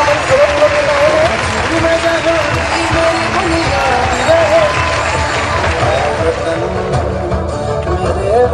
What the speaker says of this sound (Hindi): जोरदार तालियां बेटा इन बच्चों के लिए।